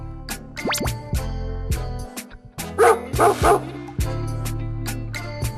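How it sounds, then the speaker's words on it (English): A dog barks and yips repeatedly in quick bursts, close and fairly loud, with a few whimpering squeals and a louder cluster of barks near the middle. "dog,"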